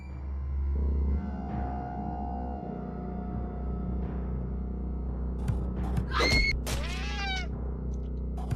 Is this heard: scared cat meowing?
yes